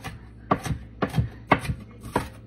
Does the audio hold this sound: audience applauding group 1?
no